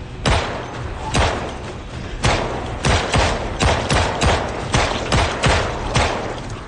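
M9 pistol firing in the video game Project Zomboid, a loud, sharp series of about a dozen close gunshots, spaced irregularly at first and then faster, each with a short booming tail.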